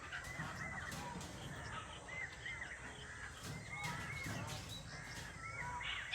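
Outdoors on a farm, crows caw repeatedly against a constant background of other birds calling, with a koel among them; the calls come at a moderate distance, steady and layered, with no talk.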